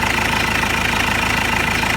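A refurbished Ford Transit Mk 7 engine idles up close, loud and even, with a steady mechanical churn and rhythmic low knocking throughout.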